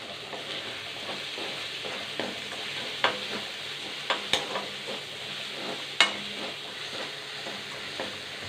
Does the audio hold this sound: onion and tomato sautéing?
yes